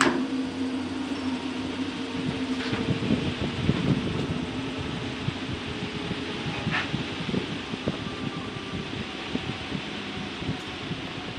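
Honey extractor with a cone-shaped stepped bottom, spinning down, giving a steady whirring, fan-like rush with continuous low rattling that stays fairly even and close throughout.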